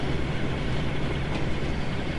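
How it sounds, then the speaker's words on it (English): Twin Sulzer engines of a diesel locomotive in Train Sim World rumble steadily in a dense, continuous low drone, loud and unbroken with no talk over it. "we'll hear those huge loud Sulzer engines, twin Sulzer engines, rumbling away"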